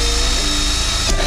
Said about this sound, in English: I've got to drill one for the wires